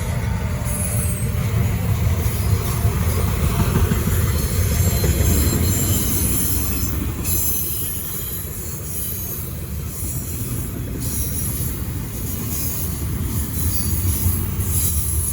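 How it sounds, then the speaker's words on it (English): An intermodal freight train rumbles past close by on the Norfolk Southern Charlotte District, a continuous heavy roll of wheels on rails with high metallic squealing and hissing running throughout. "Definitely got to get this train"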